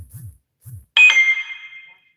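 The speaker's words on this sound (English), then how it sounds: "that was a text message" A phone chimes a short, bright text message notification tone that rings for about a second and then fades. Two brief low voiced sounds come just before it in an otherwise quiet room.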